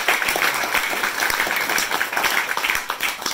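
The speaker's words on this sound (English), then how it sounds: "Come on, give us some claps for that." Audience applause fills a hall at a community gathering on climate justice, a steady wash of many hands clapping at close range for the full length without pause.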